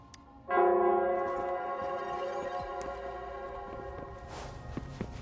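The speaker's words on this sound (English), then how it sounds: "The bell sounds closer now." Bell in Wuthering Waves tolling once, a sudden resonant strike with long ringing overtones that decay slowly, followed by fainter background sounds.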